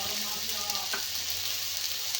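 Fish and taro spice mixture frying in a pan, a steady loud sizzle with a few soft stirring scrapes near the start.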